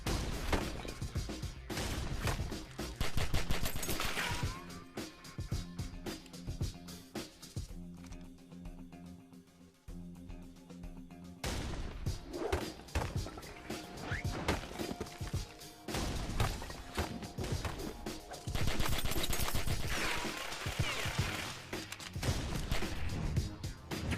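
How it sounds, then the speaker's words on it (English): Rapid gunfire from the Killer Bean animated movie shootout, with dense volleys of shots and crashes over a soundtrack, a brief lull near the middle, then continuous firing again. "Vagin and Killer Bean just shoot at each other"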